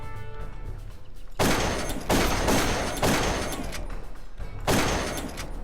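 Gunfire in the video game Darkest of Days erupts in several loud, dense bursts separated by short gaps, a rapid volley of shots close up.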